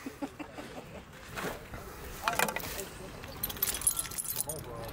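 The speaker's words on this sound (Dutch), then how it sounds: "sleutels!" Metallic keys jingle in short bursts amid rustling and handling noises, with people talking nearby, as keys are pulled up while magnet fishing.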